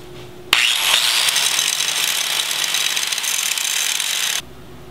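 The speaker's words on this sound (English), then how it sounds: "I'll use an angle grinder with a grinding wheel" An angle grinder with a grinding wheel grinds down metal on a ram mount, a loud, continuous harsh whine that starts abruptly, holds steady for about four seconds, then cuts off.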